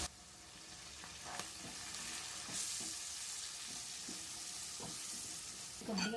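Fenugreek seeds, green chilies, turmeric and curry leaves fry in a pan for a fish curry with mango and shallots, giving a steady close sizzle broken by repeated stirring scrapes.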